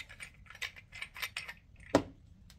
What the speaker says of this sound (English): Top screws off.